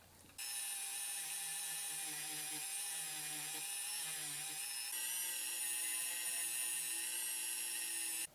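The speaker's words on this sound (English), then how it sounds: "I'm going to hit it with a little wire wheelie just to try to clean up in here." A high-pitched, steady mechanical whine from a power tool spinning a wire wheel, cleaning a car, runs continuously for several seconds, fairly quiet and even, with no talking.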